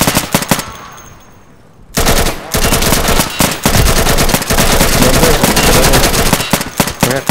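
Loud bursts of automatic and single-shot gunfire crack in the tactical shooter Insurgency on the Dry Canal map, following a quiet moment, with shots fired close by in rapid clusters.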